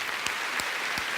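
Audience clapping steadily throughout a short stretch inside the Olympia concert hall, a dense, even wash of many hands with no voices standing out.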